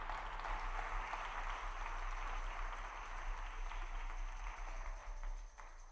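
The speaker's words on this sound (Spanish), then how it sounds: "Le damos un aplauso a Él." Church congregation applauding during a sermon, a steady wash of clapping from a crowd heard at a distance and fairly faint, holding for several seconds without any speech over it.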